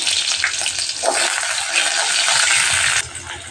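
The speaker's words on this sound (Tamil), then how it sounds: "இப்போ இதுக்கு சின்ன வெங்காயம் போட்டுக்கிறேன்" Small shallots fry for a gravy with a loud, close sizzle and the sound of stirring, steady throughout and dropping slightly near the end, with no speech.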